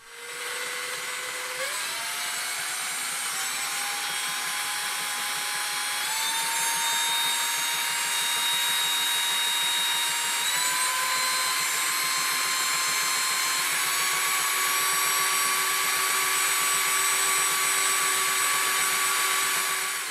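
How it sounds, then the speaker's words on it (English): An electric drill spinning a small generator: a steady motor whine spinning up, its pitch rising in several steps and then holding at a loud, constant high hum. "with some assistance from an electric drill, it can generate quite a few more volts"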